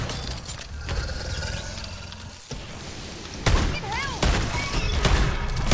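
Gunfire from a weapon in MW3 Zombies, a few sharp shots bursting out over busy game sounds and background noise, fairly loud and close, with voices and effects mixed in.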